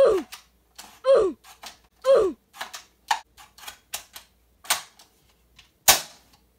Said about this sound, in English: Let's see how it cocks.